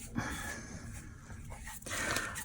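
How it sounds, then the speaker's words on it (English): A small dog makes soft barks and panting breaths at close range, steady over a couple of seconds with no talking, in an indoor workspace during resin painting. "I can hear those little barks you're making."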